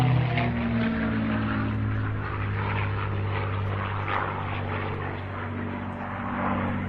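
A propeller airplane flying an aerobatic loop into a half Cuban 8 turnaround at the Wasatch Air and Space Show in Utah: a loud, continuous droning engine hum that swells and eases slightly as it passes.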